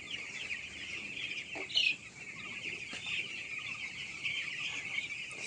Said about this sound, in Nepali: चल्लाको हल्लीचल्ली